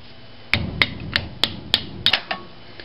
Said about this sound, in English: pound your nail in from the inside of the cap through with a hammer